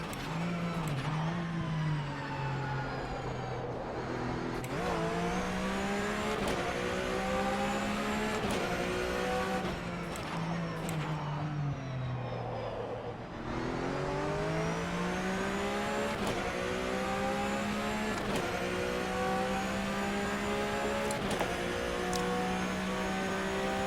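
Race car engine from the rFactor 2 EnduRacers mod, a sim racing game, revving steadily through a lap, its pitch climbing and dropping with gear changes, loud and continuous without pause.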